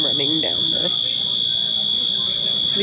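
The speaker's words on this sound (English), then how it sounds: "now an alarm is going off" An alarm goes off aboard a train, a steady, piercing high-pitched tone that holds without a break, with voices talking underneath it.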